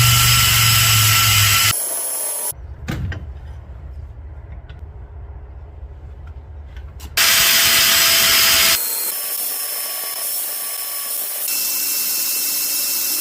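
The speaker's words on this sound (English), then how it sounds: "that 4-inch angle grinder wheel really did the job pretty quickly" A 4-inch angle grinder cutting teeth into the steel spine of a knife, with loud bursts of high, steady whine broken by quieter gaps between cuts.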